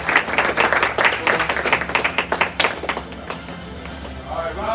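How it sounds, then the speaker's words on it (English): A room claps for students at a black belt graduation, a brisk round of hand clapping that thins out and fades near the end, with some talk mixed in. "Good to round of applause"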